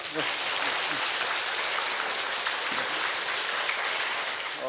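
An audience at a citizens' academy lecture on the provisional constitution, held at the National Assembly, breaks into a steady wash of clapping, with a voice briefly audible at the start.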